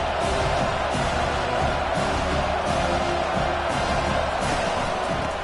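Football stadium crowd at a college game between Old Dominion and West Virginia, a dense steady roar of many voices filling the whole moment, loud and continuous with faint cheers rising as the home defense holds in the red zone.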